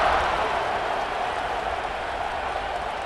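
Dense, steady crowd roar fills a stadium at a college football game, Ohio State playing NSU, a continuous broad wash of voices holding level for a few seconds with no single voice standing out.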